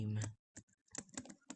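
Rapid, sharp clicks of buttons being pressed on an arcade game, close and fairly quiet, arriving in quick bursts after a brief voice at the start.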